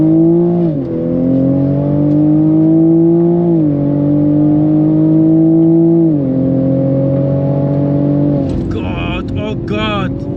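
A Bilstein-tuned Toyota Supra pulls hard on a lap at the Dijon circuit. Its engine note climbs steadily through several gear changes, loud and close. Near the end a brief squealing, warbling sound cuts in.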